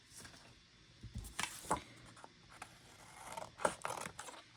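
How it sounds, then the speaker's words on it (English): Scissors snip through paper while cutting out shapes for Christmas junk journal crafts, several crisp separate cuts in an irregular rhythm, close and quiet with no talking. "just going to go with my scissors."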